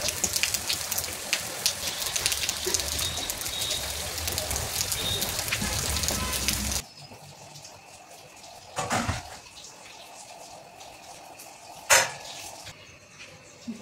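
Tap water arrives and pours into containers as a dense splashing rush for several seconds, then drops to a quieter trickle with a few louder splashes and clatters of handling.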